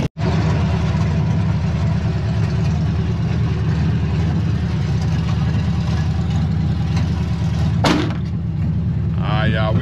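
A Chevy C-10 pickup truck engine with no mufflers runs loud and steady at a close, deep, rumbling idle throughout, with a brief clunk near the end.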